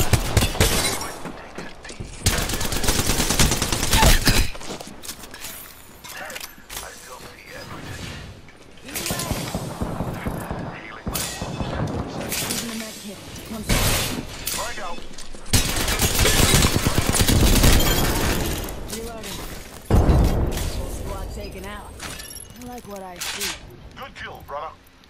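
Gunfire in the shooter game Apex Legends: repeated loud bursts of automatic fire and impacts in several clusters, alternating with quieter gaps where game voice lines and chatter sound.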